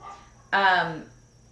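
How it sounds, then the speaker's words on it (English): A single dog bark, short and fairly close, rings out once against a quiet background. "Wow, there's a lot of barking."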